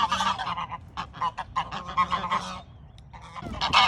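A flock of geese in a farm goose pen honks loudly and excitedly, with overlapping calls that come in bursts, pause briefly, and then start up again close by.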